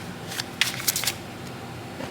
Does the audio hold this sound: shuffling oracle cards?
yes